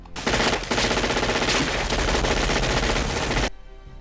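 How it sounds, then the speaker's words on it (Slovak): Sustained machine-gun fire from an Arnold Schwarzenegger film scene: a loud, dense burst of rapid automatic shots lasting a few seconds, then cutting off abruptly. "keď vidíme scénu, ako Arnold strieľa do ľudí"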